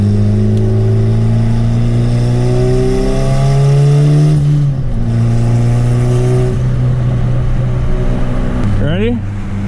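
A turbocharged 500whp Honda Civic engine revs up and down in loud, rising and falling sweeps, its harmonic whine climbing with each pull, with a voice talking over it and a final sharp rev near the end.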